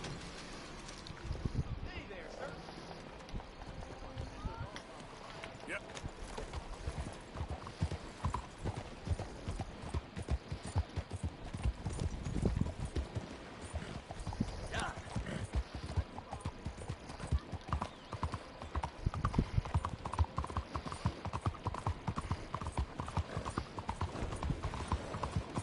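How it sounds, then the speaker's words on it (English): Horse hooves clip-clop at a steady gallop in Red Dead Redemption 2, the rhythmic thudding running throughout alongside a game soundtrack and a brief whinny, with voices talking over it. "At least I can ride a horse."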